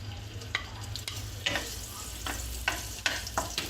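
Luncheon meat fries in a hot wok with a steady close sizzle, punctuated by sharp scraping clicks of a spatula stirring at irregular intervals.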